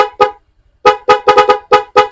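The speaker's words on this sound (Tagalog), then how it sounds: "Pajab-jab lang yung busina." A car horn, tapped in short quick jabs rather than held down, gives about eight loud, close toots: two early, then a rapid uneven run of blasts after a brief pause.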